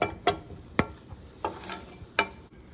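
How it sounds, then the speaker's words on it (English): A spoon stirs cabbage stir fry in a pan with about five separate scraping strokes, each a short clack, spaced irregularly over a quiet background. "we're going to give that a mix"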